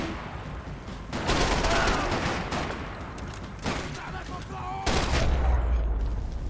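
Sniper rifle fire in the video game Max Payne 3: a dense, loud run of overlapping gunshots and booms, with heavier bursts landing every second or two over a constant roar of battle.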